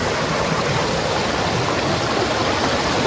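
Kallar Meenmutty waterfall pours in a steady, loud, dense rush of falling water that fills the whole clip without pause, close by and with no voices.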